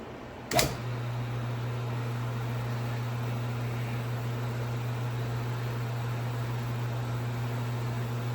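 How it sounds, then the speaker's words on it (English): A rotary phase converter's idler motor starts with a brief click, then settles into a steady, even electrical hum with a constant low drone and faint whir for the rest of the stretch. "The idler motor is going."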